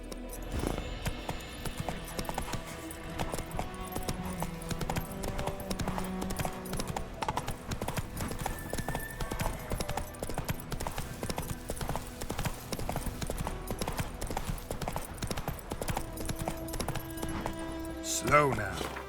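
Horse hooves galloping in The Witcher 3, a fast steady clip-clop rhythm running throughout beneath dense layered game music, with a brief louder flourish near the end.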